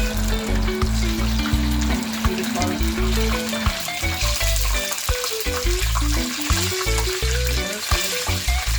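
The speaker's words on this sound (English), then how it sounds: "I'm gonna take out my fish. These ones are finished frying." Jamaican escovitch fish frying in hot oil, a steady loud sizzle and crackle running throughout, with a person talking briefly over it.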